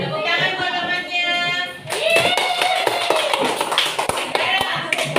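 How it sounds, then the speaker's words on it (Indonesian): A classroom applauds a classmate with a short burst of hand clapping, led in by a teacher speaking, then scattered claps continuing under voices and children's chatter. "Tepuk tangan buat temannya."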